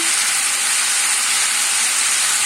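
Steady, loud hissing sizzle of beetroot frying in a hot pan, continuous and close with no pauses or voices.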